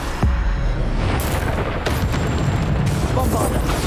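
A Bombarda spell explodes in Hogwarts Legacy with a loud, sudden boom and broad crackling blasts. Game effects keep rumbling under the noise afterwards.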